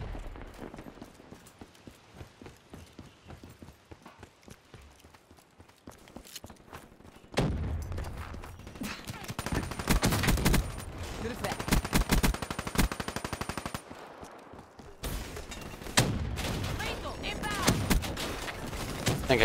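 Gunfire in the video game Black Ops 3 during a team match, with long bursts of rapid automatic shots that start quiet and grow loud and dense, cut by brief gaps, and talk underneath.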